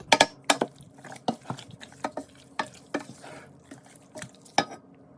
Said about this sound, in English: Add it to the chicken and mix well.